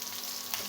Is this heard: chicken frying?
yes